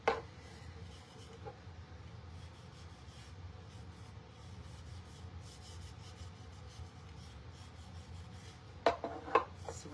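A steady, rasping rub of sandpaper on painted framed art as the finish is heavily distressed, continuous and close for ten seconds, with a couple of sharper scrapes near the end.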